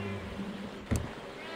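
A person's voice imitates a cat with their lips during a Sea of Thieves game session: a brief low warbling meow-like tone, then a short sharp burst, faint and close.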